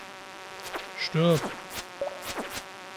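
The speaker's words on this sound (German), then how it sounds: "jetzt kommt schon wieder so eine Fliege" Buzzing fly enemy in the Stardew Valley mines, a droning whine that swells and sweeps past under a steady game background, with a brief spoken word over it.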